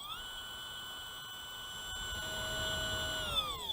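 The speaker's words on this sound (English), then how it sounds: "Then hold this motor here and throttle it up." A small electric motor on a hobby robot being throttled up close to the microphone, a steady high whine with layered tones that holds level, then shifts pitch slightly toward the end, with no talking.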